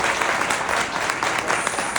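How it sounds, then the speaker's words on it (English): Steady audience applause, a dense wash of clapping hands sustained throughout without pause. "Let's give them one more round of applause"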